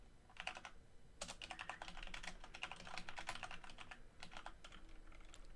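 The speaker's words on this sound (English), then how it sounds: "Type, type, type, type." Quiet rapid typing on a computer keyboard, bursts of close key clicks with brief pauses between runs, alone and without any talking.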